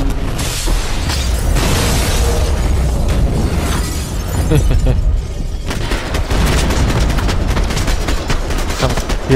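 Dense, continuous gunfire and explosive bursts from Max Payne 3 gameplay, a loud sustained barrage of overlapping shots and booms with no pauses.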